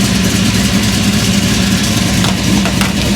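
A 1964 Chevy II gasser with a tunnel ram and dual four-barrel carburetors runs close by, a loud, steady, rumbling idle with a lumpy throb throughout and nothing else heard.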